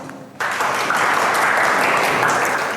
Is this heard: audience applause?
yes